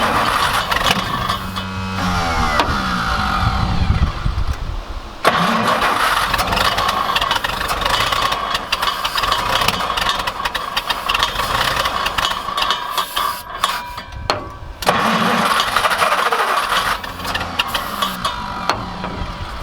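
An abandoned racetrack project car's engine cranks, catches and settles into a rough idle, loud and close, with the starter churning early on and a brief dip in the running note partway through.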